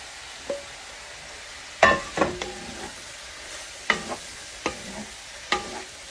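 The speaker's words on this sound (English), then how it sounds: "Now, I'm going to put all my zucchini back in here." Zucchini tipped back into a pan with mushrooms and onion, the burner already off, gives a faint sizzle under a few sharp stirring clatters and scrapes, spaced irregularly and heard close up.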